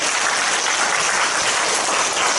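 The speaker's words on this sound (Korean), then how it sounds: "동의하시는 분만 박수 한번 보내주시죠" A lecture audience breaks into continuous applause, a dense, even wash of many hands clapping at once, loud and steady throughout.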